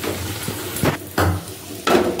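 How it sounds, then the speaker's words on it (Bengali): Luchi, puffed flatbread, fry reddish-brown in hot oil, giving a crackling sizzle that swells in a few sharp bursts, with light kitchen clatter and no talking. "লাল লাল করেই ভাজছে"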